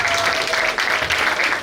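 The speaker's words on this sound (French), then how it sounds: "Est-ce qu'on peut applaudir encore une fois pour lui?" Audience applause at a civil wedding ceremony, a brief, steady burst of many hands clapping close by.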